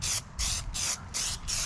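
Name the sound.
aerosol spray paint can spraying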